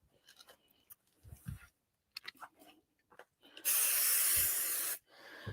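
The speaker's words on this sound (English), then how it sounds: "So when I'm popping the spray on, I do make sure that I'm not spraying within my seams as well." A single sustained hiss of spray adhesive onto fabric for a crossbody bag, lasting over a second after some quiet handling and rustling of material.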